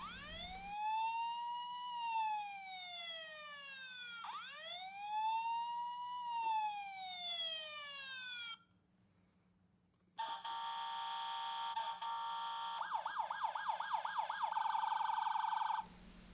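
An electronic Tonka toy ambulance siren wails up and down repeatedly, pauses briefly, then switches to rapid warbling yelps, loud and close.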